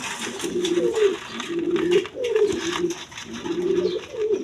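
A pair of Sirazi pigeons at a wholesale pigeon seller coo close by, a low rolling coo repeated about every second in a steady rhythm, with no one talking.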